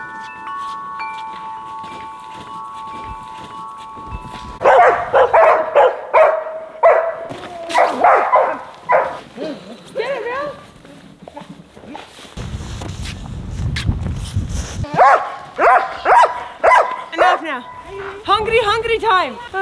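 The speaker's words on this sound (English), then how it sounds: "Okay, that was a lot of barking." A dog barks repeatedly in loud, close bursts, with rustling and a stretch of wind-like noise between barking spells.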